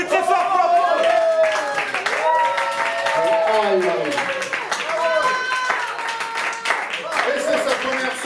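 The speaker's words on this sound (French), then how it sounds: "C'est sa première scène, on applaudit très fort." Audience applause and clapping at a slam poetry night at La Zonmé in Nice, greeting a poet's first time on stage, loud and continuous throughout with cheering voices mixed in.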